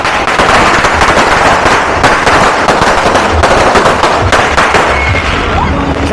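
Firecrackers bursting during New Year celebrations in the Philippines, dense rapid crackling pops and louder bangs packed close together, with voices faintly in the background.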